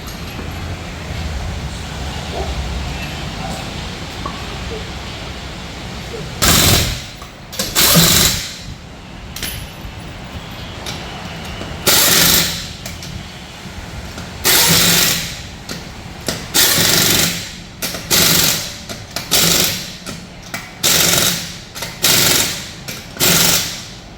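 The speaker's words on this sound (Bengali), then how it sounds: "এরপরে জাস্ট নিমিষেই চাকাগুলো টাইট দেওয়া হয়ে যায়" Car wheels are tightened in a modern garage with a power tool, in a series of loud, sharp bursts that come faster and repeat in the second half, over a low background hum.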